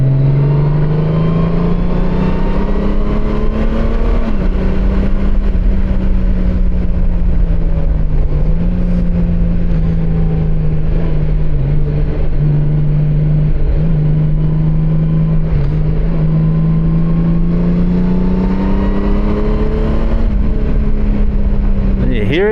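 A Honda Goldwing touring motorcycle accelerates in sport mode on the road, its engine a loud, steady drone that rises and dips slightly in pitch over heavy wind rumble, continuous and close throughout.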